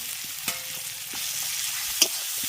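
Ground pennywort leaf paste fries in a pan of softened ingredients, giving a steady low sizzle with a few soft stirring clinks and scrapes, close and fairly quiet, no talking.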